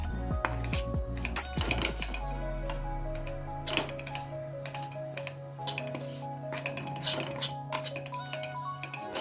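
Bajra (pearl millet) flour roasting in a pan over a low gas flame, heard as a dense run of close metallic clinks, scrapes and ticks from a utensil working the dry flour against the pan, continuous and uneven.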